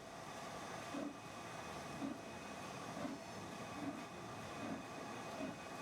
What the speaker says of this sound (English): Is it a modern train? It is a modern train.